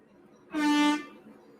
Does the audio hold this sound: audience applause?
no